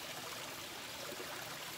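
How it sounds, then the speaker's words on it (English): A backyard waterfall built at a home in the Philippines rushes steadily, a constant broadband wash of flowing water at moderate distance with no voices. "try to build you a waterfall like this"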